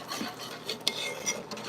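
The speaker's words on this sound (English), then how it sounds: "And giving it a good stir." A spoon stirring beef broth in a cooking pot, soft continuous scraping and swishing with a few light clinks against the pot, close and quiet.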